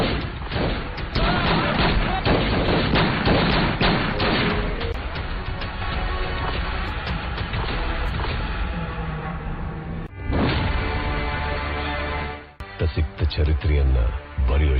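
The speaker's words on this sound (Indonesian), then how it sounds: "kelompok musuh datang memberikan tembakan membabi buta" Indiscriminate gunfire and explosions from an action film about a special forces raid on a mafia hideout, a dense, continuous barrage with booms and crashes that drops briefly around ten seconds, then resumes, mixed under music and voices.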